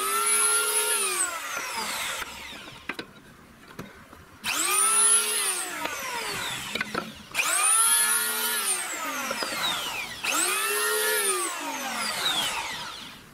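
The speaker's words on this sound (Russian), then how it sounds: "давайте попробуем края обрезать" A lathe trims the edges of a small holder for storing drill bits, with four long rising-and-falling whining cuts separated by short lulls and light clunks, loud and close with no talking.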